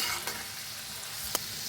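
Garlic cloves frying in oil in a home kitchen, a faint, steady sizzle broken by a few brief clinks and scrapes of stirring.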